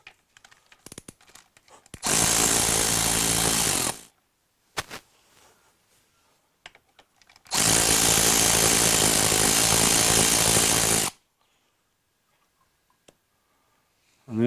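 Socket head cap screws coming out of a Ducati 2V clutch slave cylinder under a power driver: two loud, sustained whirring bursts of a few seconds each, separated by quiet stretches with small handling clicks.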